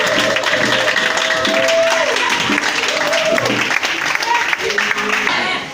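A church congregation applauding and cheering, a dense sustained wash of clapping and crowd noise with voices and music mixed underneath.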